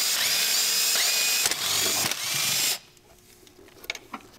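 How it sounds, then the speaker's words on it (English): A ratchet clicks rapidly while loosening spark plug cover bolts on a Volvo engine, a close, bright ratcheting burst with brief pauses that ends abruptly, followed by a few faint taps and clinks. "Remove the spark plug cover bolts."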